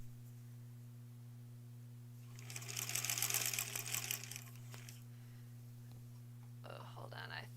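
A sewing machine stitches quilt border seams for a granny squares quilt in a short burst of rapid needle chatter, then stops, with a steady electrical hum beneath and a few light clicks and handling sounds afterward.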